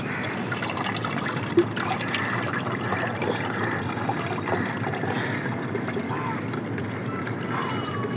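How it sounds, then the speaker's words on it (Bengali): Fermented onion peel and lemon water is strained, giving a soft, continuous trickle and pour of liquid close by, with light splashing throughout. "এভাবে আপনারা ছেঁকে ফেলবেন"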